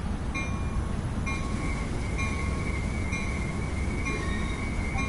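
Train rolling along track in the Train Sim World 2020 simulator, a steady continuous rumble of wheels and rails with faint tonal whines, sustained and even throughout with no talking.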